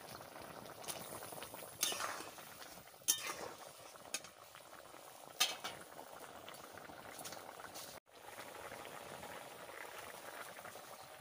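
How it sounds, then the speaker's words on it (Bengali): Fish curry bubbles at a steady simmer in a pot while fish is added. A few sharp clinks of metal against the pot stand out over a soft, close bubbling bed. "তরকারি ফুটে গেছে, আমি মাছ দিয়ে দিচ্ছি।"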